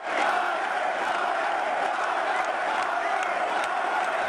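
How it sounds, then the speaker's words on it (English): A large golf gallery chants a player's name, Tiger Woods, a dense roaring crowd sound with rhythmic swells and whoops, loud and continuous with no talk over it. "the crowd chanted his name"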